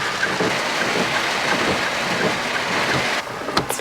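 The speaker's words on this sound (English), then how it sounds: "It's raining." Steady, dense hiss of rain falling continuously in Brunei, with a brief sharper disturbance near the end.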